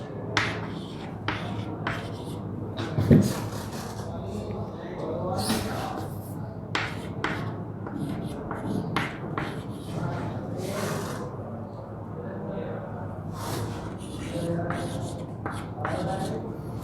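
Chalk or a marker scratches on a classroom board in short bursts of strokes, with pauses between them, while a teacher talks over the writing.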